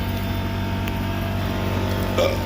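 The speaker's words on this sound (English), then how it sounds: "this is my compressor going off" An air compressor runs in a garage beside an LT1-engined car that won't start, a steady low mechanical hum with a brief louder surge near the end, fairly close and continuous.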